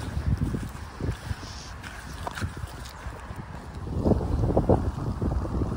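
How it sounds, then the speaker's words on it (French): Wind blowing outdoors on a walk toward an animal farm, gusting against the microphone in low rumbling buffets that grow stronger toward the end, with faint background sounds. "Il y a un vent ici."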